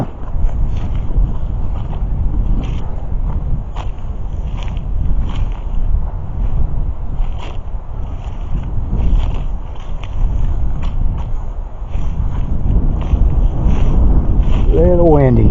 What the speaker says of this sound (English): Camera's picking up a lot of wind sounds